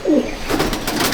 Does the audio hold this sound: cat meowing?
no